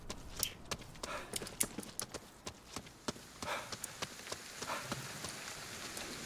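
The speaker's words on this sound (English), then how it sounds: "It has to be raining again." Rain falls in Ghostwire Tokyo, a steady faint patter with scattered sharper drops and taps hitting surfaces, soft and continuous throughout.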